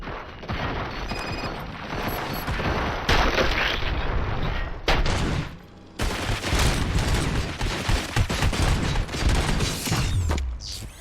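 Sustained gunfire in the video game Robocop Rogue City, with dense bursts of shots and booms that stop briefly midway, then resume loud and continuous, with no voices.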